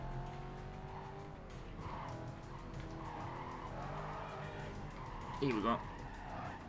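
Car tires squealing and skidding through tight corners in the racing game Need for Speed: Carbon on Xbox 360, with engine drone throughout, a sharp squeal near the end, and someone talking briefly.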